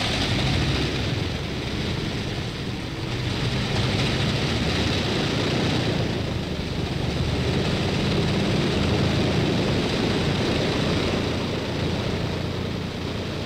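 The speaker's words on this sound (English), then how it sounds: "the engines are started up for the first time" Wellington bomber engines start up for the first time with a continuous, loud, droning aircraft engine roar that swells and dips slightly over its length, and no voices are heard.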